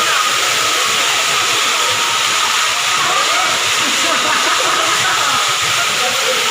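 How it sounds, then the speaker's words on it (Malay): A garden water fountain splashes beside a carp pond in a lavender garden in Cameron Highlands, a steady, loud broadband rush of falling water that runs unbroken throughout. "Taman ikan kap dan ada air pancur."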